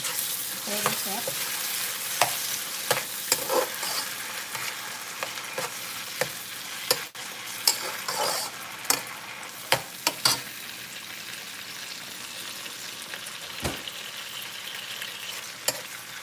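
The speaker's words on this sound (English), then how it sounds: "We're going to stir this up." Stew chicken sizzles and fries in a pot while a spoon stirs it, steady crackling hiss broken by repeated scraping clatters, close and clear with no talking.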